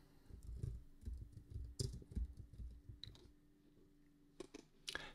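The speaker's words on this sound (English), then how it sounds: "Type it on there." Keys on a computer keyboard are typed in short, irregular bursts of crisp clicks, close and fairly quiet, with no talking.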